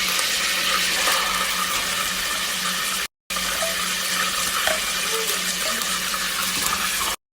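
Shrimp fry in hot oil with a loud, continuous sizzle and a brief break partway through, made while preparing a Kuwaiti shrimp stew.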